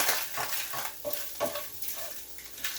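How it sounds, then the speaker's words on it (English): Browned Spam is stirred in a pan with the heat just turned off: soft, rhythmic scraping strokes over a faint lingering sizzle, close and fairly quiet. "So I'm going to turn the heat off this, give it one more little stir."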